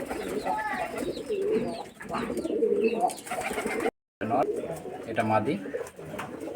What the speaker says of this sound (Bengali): ঘিয়া চললি কবুতর